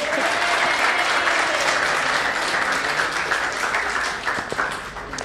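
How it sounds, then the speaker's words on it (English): Sustained applause from parents and guests at a school sports and annual day evening event, steady and dense throughout, tapering slightly near the end with faint voices mixed in. "I think our teachers also need a big round of applause."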